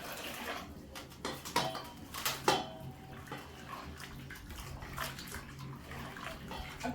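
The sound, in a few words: washing skinned maize in water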